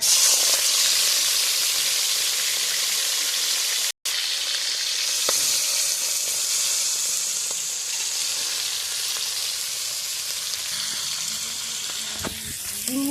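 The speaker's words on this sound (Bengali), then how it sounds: "এবারে দেবো চিংড়ি মাছ ভাজা" Prawns frying in oil over a village clay stove, a long steady hissing sizzle heard close, with a momentary cut early on and faint scrapes later.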